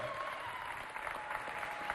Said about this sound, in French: On applaudit surtout pour les batteurs.